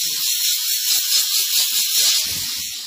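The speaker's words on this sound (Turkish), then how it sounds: "Buharı tuttuğumuz zaman seyredin" A steam car-wash cleaner hisses a steady, close jet of steam onto a seat, with faint rattling and handling noises underneath.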